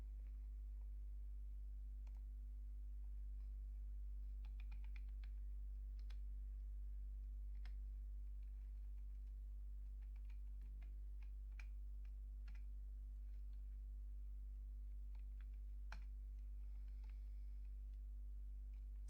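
Data entry on a computer keyboard: sparse, irregular key taps and clicks, faint and close, over a steady low electrical hum with no voices.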